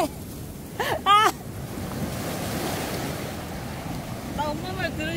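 Surf rolls and washes steadily onto Yonghwa beach, a broad continuous roar with wind buffeting the microphone, while people talk briefly at the start and end.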